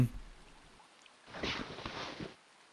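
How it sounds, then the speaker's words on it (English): Rain in the RPG Maker horror game The Forest of Drizzling Rain swells into a soft, hissing wash for about a second before fading back to near silence. "It's raining."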